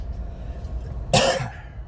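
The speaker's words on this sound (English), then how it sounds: "I apologize for all the coughing" A single harsh cough bursts out, close and loud, after a quiet stretch of low background hum.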